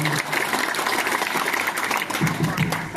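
Audience applause at a training session for Pecalang traditional Balinese security guards from East Java, a steady dense clapping that fills the room for a few seconds.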